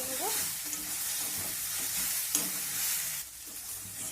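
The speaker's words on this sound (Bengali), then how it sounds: "সব কিছু আবারও একটু নাড়াচাড়া করে নেব।" A spoon stirs winter vegetables with turmeric and chili powder in a pan over a soft, constant sizzle, with scraping strokes coming at irregular intervals and a slightly louder clatter partway through.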